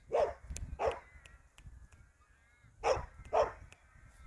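A dog barks outdoors at the edge of land where flood gates are being opened, giving two barks, a pause, then two more, moderately close with no talking.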